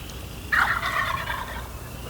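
A wild turkey tom gobbles once in a spring field, a single rapid rattling gobble lasting about a second, clear at moderate distance over quiet outdoor background.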